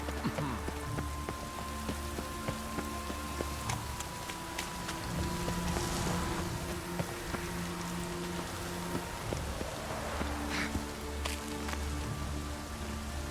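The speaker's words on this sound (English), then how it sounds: "Rain, I like rain. The rain will cleanse the city streets of filth." Steady rain in The Witcher video game patters down continuously over a low ambient hum, with occasional heavier drips standing out against the constant hiss.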